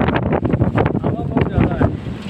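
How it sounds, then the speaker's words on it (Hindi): Strong gusty wind buffets the microphone at the Atal Setu bridge in a continuous rough roar, with a voice talking through it. "इधर इतनी हवा चलती है ना, बहुत हवा है आज तो"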